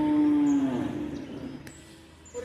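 A single loud, close moo from cattle at a bull market in Melur, a long low call that fades out, with no talk over it.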